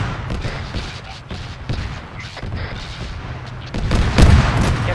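Armored personnel carrier cannon fire in the video game Arma 3: repeated heavy booming shots and gunfire in an irregular rhythm, growing louder toward the end, with scattered radio-style voices underneath.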